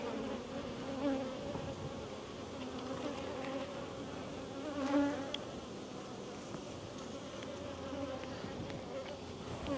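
Honey bees droning steadily around an open, failing hive during an inspection, a dense continuous buzz close by that swells and fades slightly as bees pass.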